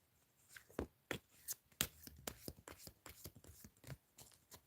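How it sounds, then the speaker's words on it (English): A deck of cards is shuffled and riffled close up, giving a rapid series of crisp flicks and taps in uneven bursts. "let's make it a good shuffle"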